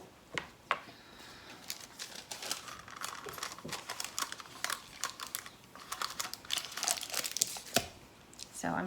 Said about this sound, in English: So I'm doing the same thing here with my pint. I have my wax paper. I seal it pretty strong